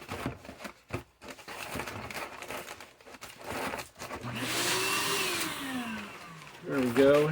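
An air pillow packing machine inflating packing pillows: a whirring, blower-like hum that swells and holds steady, mixed with crinkling plastic and handling noise, with a voice speaking at the start and end.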